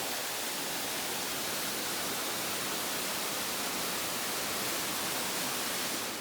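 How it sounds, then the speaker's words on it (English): A waterfall on a mountain valley trail near Geraldine Lakes roars as a steady, dense wash of rushing water, loud and unbroken throughout, with no voices. "Another waterfall."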